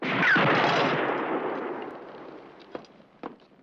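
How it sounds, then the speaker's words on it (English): Gunfire in a movie scene, one loud blast that rolls off in a long echoing decay, then two fainter sharp reports a few seconds later, with no talking. "Good shooting. Very good shooting."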